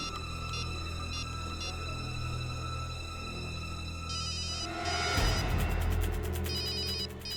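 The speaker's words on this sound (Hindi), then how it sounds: "फोन की आवाज तो यहीं कहीं से आ रही।" A telephone rings steadily in repeating electronic bursts over a constant low hum, growing louder and busier toward the end.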